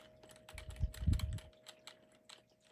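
Keys clack on a Dell Dimension 4300 computer keyboard, a cluster of close taps with a steady electrical hum underneath from the noisy machine.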